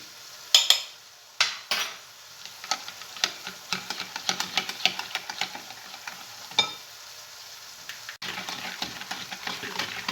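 Oil and sugar stirred together for a Rolita coconut cake batter, with a utensil repeatedly scraping and clinking against the bowl in irregular close strokes throughout, alone without talk.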